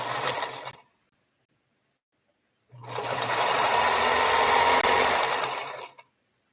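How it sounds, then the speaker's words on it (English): A sewing machine stitching a quilt block, running in a short burst, stopping for about two seconds, then whirring steadily for roughly three seconds before halting, close and clear with no talking. "I couldn't sleep, but I could sew."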